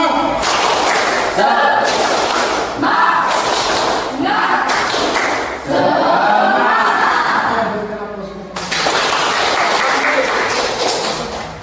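A classroom of students doing a rhythmic spirit clap together, loud and close, in repeated bursts of sharp claps and thumps with voices chanting along and short pauses between rounds.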